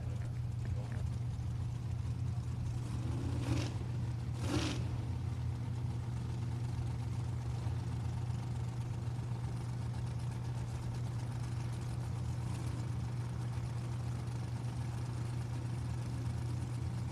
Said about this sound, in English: Dragster over there on the right side.